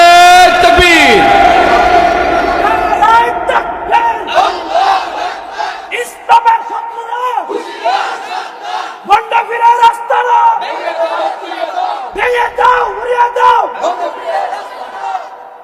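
A large crowd at an open-air Islamic religious gathering in Bhola, Bangladesh roars a unison takbir chant in repeated loud waves, answering a preacher's call, with a voice amplified over a loudspeaker in between.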